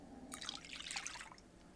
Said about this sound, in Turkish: Bir su bardağı ılık su alıyorum.